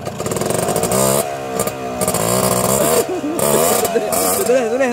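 A Rusi KRY 200 or Yamaha 100 motorcycle engine running while the bike is pushed along a rice field, loud close revving that rises and dips in uneven bursts with brief drops in between.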